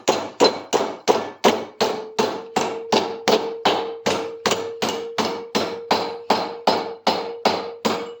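A metal bracket clamped in a vise is struck about twenty times with a hammer, with sharp, evenly spaced, ringing blows close by, each decaying quickly into the next, with no talking.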